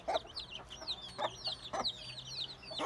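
Newly hatched chicks and hens peep and cluck softly in quick, scattered bursts, fairly close and quiet, with low background noise.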